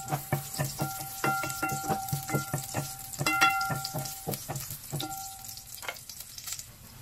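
Garlic sizzling in hot oil as vegetables and shrimp get cooked, with steady crackling broken by a few sharp clinks of a utensil against the pan, close and fairly loud, no talking.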